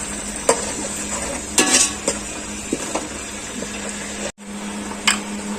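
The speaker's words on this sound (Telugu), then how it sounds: "పుదీనా వేసాను. మంచి ఫ్రై అవ్వాలి ఆయిల్లో." Onions, green chilies and mint frying in oil for a Telangana-style chicken dum biryani: loud, continuous close sizzling broken by several scraping stirs and clinks of a spoon against the pan, with a brief cutout near the end.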